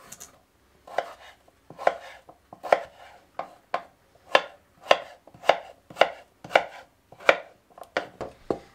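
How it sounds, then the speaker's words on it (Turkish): A knife chops potatoes into cubes on a cutting board, about a dozen crisp, evenly spaced strikes close to the microphone, with no talking. "patateslerimizi küp küp doğrayalım"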